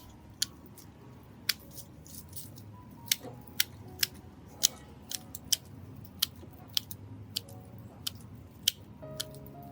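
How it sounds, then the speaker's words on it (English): Small scissors snip away rotted, blackened, mushy orchid roots with a string of crisp, close clicks at irregular intervals, over a soft rustling background, with no talking. "Any roots that are rotted, blackened, or mushy will be completely cut away."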